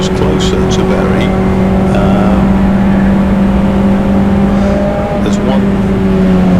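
Ford Puma Cup race cars circulate behind a safety car at Donington Park, a loud, steady engine drone with a sustained hum running through it, while a commentator talks over it.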